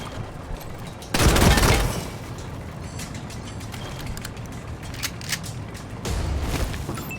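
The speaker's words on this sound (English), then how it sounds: "These machine guns are what's rude, man." Bursts of machine gun fire in the turn-based combat game Wasteland 3, two dense volleys separated by a stretch of lower battle noise and clanking.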